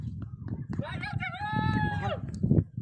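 A chicken gives a brief, stretched cackling call amid a murky, rustling background with faint voices.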